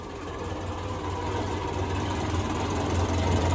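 A grey Ferguson tractor engine idles steadily and evenly, a continuous low mechanical rumble with a faint knocking pulse, close by and alone.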